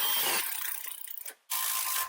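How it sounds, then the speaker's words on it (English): A ratchet with a 14mm socket clicks while tightening the outer control arm bolt on a 2006 Honda Civic, a close run of quick clicks followed by a brief pause and another burst. "the 14mm socket again to tighten the outer bolt."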